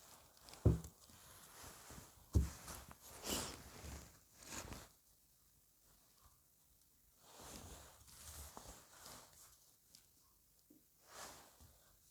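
Tarot cards are shuffled close by in a quiet room, giving soft papery riffles and brushing slides with a few sharper taps, faint and irregular.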